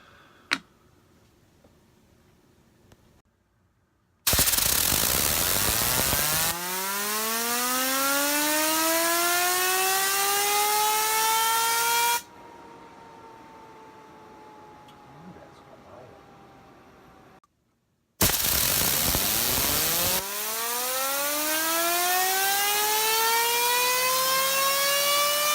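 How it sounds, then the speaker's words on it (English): A WooSah The Boss fidget spinner with a quiet bearing whirs steadily for several seconds after each hard flick, with its tone changing gradually. The spin repeats, separated by brief gaps. "I'm anticipating a long spin, despite the fact that it's got this really quiet bearing in it"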